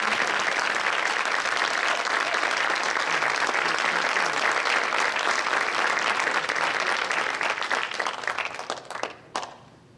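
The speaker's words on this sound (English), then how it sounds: "Let's give them a round of applause." Sustained applause from a crowd honoring students at a school board meeting, loud and steady clapping for about nine seconds before trailing off.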